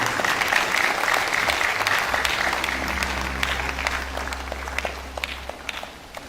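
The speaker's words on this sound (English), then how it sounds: "A round of applause for him." Audience applause welcoming a lecturer to a university valedictory lecture, a dense steady clapping from a large hall crowd that holds for several seconds before thinning out, with a low hum underneath.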